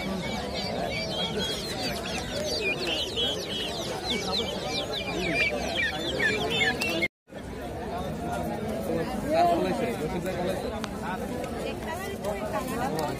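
Chickens and chicks cluck and cheep at a busy village market, with scattered bird calls over a background babble of voices, and people talking nearby throughout.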